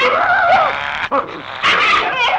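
A dog in a 1968 Tamil film scene gives yelping, whimpering cries that rise and fall over about two seconds, close and fairly loud, with a brief break midway.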